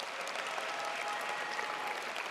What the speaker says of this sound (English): Please give Anthony Munoz a round of applause.